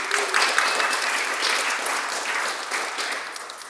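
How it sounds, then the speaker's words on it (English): Audience applause at a library-sponsored literary event, a sustained, even burst of many people clapping together, fairly loud at first and easing slightly toward the end, with no talking. "Let's give them a round of applause."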